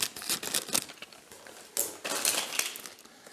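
Scissors snip and crinkle through a plastic accessory bag during a Big Bobby Car Next unboxing, a series of quiet, close cutting and rustling sounds with no talking.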